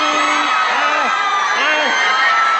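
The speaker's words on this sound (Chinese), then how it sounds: "现场即时传出尖叫声啊！" Fans waiting at Hong Kong airport for actor Hyun Bin's arrival scream and cheer loudly together, a continuous wall of shrieks with rising and falling whoops and no clear talk.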